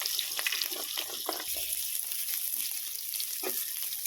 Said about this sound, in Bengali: দিয়ে আলুটাকে একটু এর সাথে ভেজে নেব